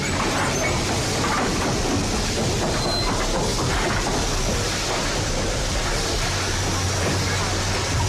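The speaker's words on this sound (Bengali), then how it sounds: "গিয়েই লেথারহেডের দিকে একটা ট্রেনও পেয়ে গেলাম।" A period train heading from Waterloo station toward Leatherhead runs along the rails in a dense, steady rushing rumble that stays loud and constant throughout.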